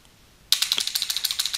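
Rapid keystrokes on a computer keyboard start abruptly after a brief quiet and continue in a quick, even rhythm of crisp, close clicks.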